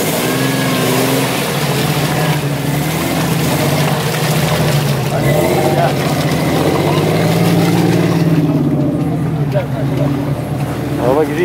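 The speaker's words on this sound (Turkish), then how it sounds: "Araba gidiyor ya." Off-road Jeep Cherokee or Toyota Land Cruiser engine driving and revving steadily, loud and close throughout, with people shouting and talking over it.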